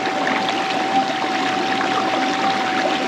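A prospecting spot in a running stream, its water rushing and gurgling in a constant close wash of noise for the whole stretch, with no speech and no breaks.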